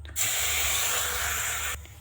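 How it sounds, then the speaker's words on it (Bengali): Milk poured onto fried semolina in a hot pan gives a loud, steady hiss and sizzle that holds for over a second, then stops abruptly, with no voices. "এবার দিয়ে দিন হচ্ছে দুধ।"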